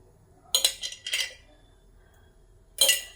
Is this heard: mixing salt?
yes